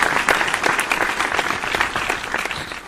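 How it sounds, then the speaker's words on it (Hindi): An audience at a Kavi Sammelan poetry gathering applauds to welcome a poet, a dense, steady wash of clapping from many hands that fills the hall without a break. "एक बार जोरदार ताली स्वागत करिए आप"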